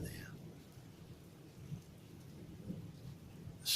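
Faint distant thunder grumbles beneath a soft wash of rain in a dark electrical storm, with a few small bumps and a brief louder noise at the very end.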